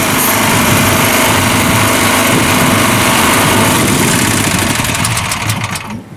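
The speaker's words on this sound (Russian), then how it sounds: "Китайский моторчик." A small Chinese engine runs on a farm during ploughing, a loud, close, buzzing high-revving drone that holds steady for several seconds before dropping off abruptly at the end.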